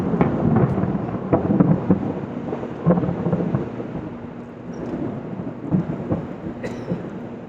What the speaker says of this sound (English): That wasn't an aeroplane or Putin declaring war on Italy, it was thunder.